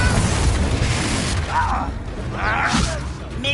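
Confringo explosion spells in Hogwarts Legacy, with booming blasts and whooshes under combat voices, loud and dense throughout the clip.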